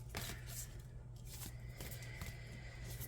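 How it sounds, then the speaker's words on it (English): Quick, soft riffling of cards repeats in short bursts over a low steady hum, close and fairly quiet, with no one speaking. "I will be shuffling all the cards"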